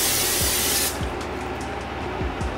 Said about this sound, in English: You get your pan spray.